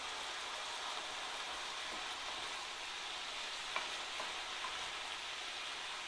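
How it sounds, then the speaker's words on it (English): Ground beef browning in a pan while being stirred, giving a quiet, steady sizzle with faint scrapes and no voices. "Just keep working everything until your meat's brown."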